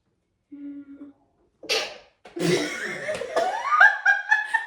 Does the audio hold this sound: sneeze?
yes